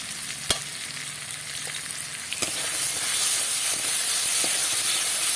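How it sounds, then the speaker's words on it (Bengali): Cumin, coriander and chilli powders with tomato fry in a pan, giving a close hissing sizzle broken by stirring clicks and scrapes, growing louder and fuller partway through; no one speaks. "এবার এটা একটু ভাজা ভাজা করে নেবো"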